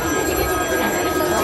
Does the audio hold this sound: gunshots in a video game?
no